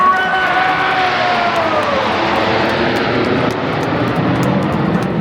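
Royal Air Force Aerobatic Team jets arriving at the Blackpool airshow, a loud sweeping jet roar with falling engine tones as the formation rushes past, sustained and close throughout.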